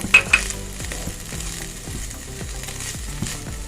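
Chicken pieces frying in a pan with ginger and garlic, a steady close sizzle with light stirring scrapes and a couple of sharp clinks near the start.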